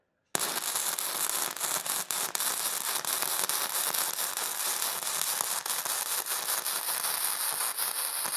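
Flux core welding with a multi process welder: a steady, dense crackle and sizzle of the arc, loud and continuous for several seconds right after a sudden start, with no talking.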